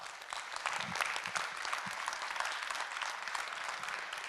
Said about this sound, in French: Smetanine, on peut applaudir effectivement